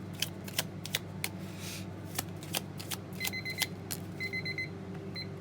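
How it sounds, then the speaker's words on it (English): Kitchen timer alarm going off: short bursts of high, thin electronic beeping sound twice near the end, amid scattered soft ticks and rustles over a low steady hum in a quiet room. "That timer went off and we got loud."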